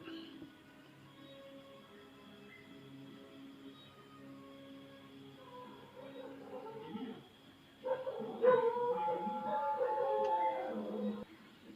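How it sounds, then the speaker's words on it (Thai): A few short dog barks and yips ring out toward the end, moderately distant, over a quiet background with faint murmuring. "เมื่อกี้เสียงหมาเห่าหน่อยนึง"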